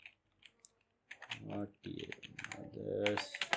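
Quick keystrokes clatter on a computer keyboard while Python input and output code is entered, short clicky runs of typing mixed with a speaking voice.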